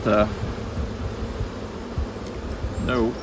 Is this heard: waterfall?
no